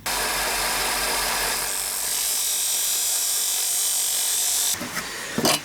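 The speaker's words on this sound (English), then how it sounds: "I'm going to put this on the belt sander and I'm going to take some meat off" A belt sander grinds steadily and loudly against a metal pole tip adapter section, removing material, then stutters briefly near the end.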